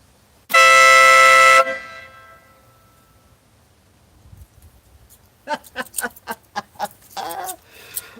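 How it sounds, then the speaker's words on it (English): A loud, sustained truck horn blasts once for about a second, followed by quiet and then a string of short chirping bursts. "I'm going to honk the horn."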